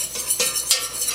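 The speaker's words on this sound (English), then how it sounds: "And I'm going to whisk that in." A whisk stirs a quarter cup of flour into melted butter in a saucepan, making a few quick scraping, metallic strokes up close, with no talking.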